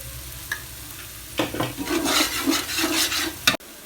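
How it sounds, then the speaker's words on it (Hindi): Chicken frying in a pan with salt and ground chili powder, a close stirring and sizzling scrape that builds after a soft start and runs steadily before ending with a sharp clack. "अच्छे तरीके से जो है हम इसको इसके साथ भून लेंगे।"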